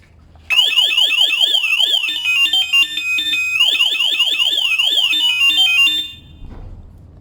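An aftermarket alarm fitted to a Zontes Mantis 125 cruiser motorcycle wails loudly and close, a rapidly cycling electronic siren that sweeps up and down for about five seconds before cutting off abruptly.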